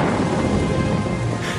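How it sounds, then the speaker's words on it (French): A crack of lightning and rolling thunder fill a short stretch with dense, loud rumbling and crackle, steady throughout with rain-like hiss. "le craquement d'un éclair."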